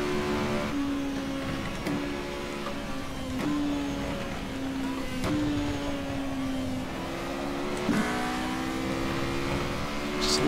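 Formula Renault 3.5 race car in rFactor 2 at Silverstone, its engine whining through repeated upshifts and downshifts, pitch climbing then snapping down at each gear change over a continuous loud drone.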